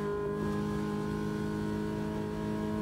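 A V16 car engine that revs to around 9,200 rpm runs loud and steady, its layered harmonic drone holding close and constant for about three seconds with no voices.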